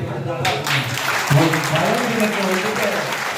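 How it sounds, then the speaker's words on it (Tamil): Applause from an audience after a dance performance, a dense burst of clapping that swells and holds at a steady level, with voices underneath. "அவர்களை பாராட்டு விதமாக ஒரு கரமொழி"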